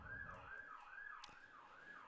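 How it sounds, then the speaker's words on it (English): An emergency siren wails past a baseball stadium in a steady, repeating up-and-down cycle. It sounds faint and distant, and no voices are heard. "Apologies for the sirens going past Hyde Stadium right now."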